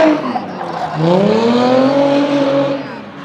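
A Nissan S14 drift car with a Toyota 1UZ V8 swap screams past up close, its engine note rising and falling loudly with tire noise as it drifts by.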